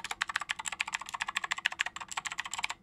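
Rattly keystrokes on a plastic Keychron keyboard, a quick steady run of clacking presses, close and clear with no talking.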